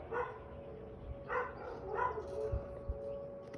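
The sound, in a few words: dogs barking at tornado sirens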